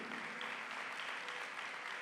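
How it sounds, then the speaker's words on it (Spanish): A congregation at a church service applauds in a continuous, even wash of clapping that sounds distant and soft, with no distinct voices on top. "¿Alguien puede darle un fuerte aplauso a la palabra del Señor?"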